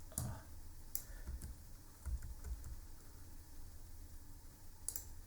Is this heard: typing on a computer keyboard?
yes